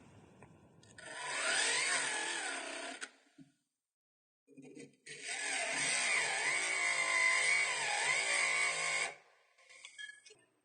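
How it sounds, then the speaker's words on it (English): A jeweller's burr cuts into ring prongs for pin point stone setting, making a faint, steady high whine in two long runs separated by a pause. "we need to move the burr around in a circular motion, cutting into each prong just a little bit further."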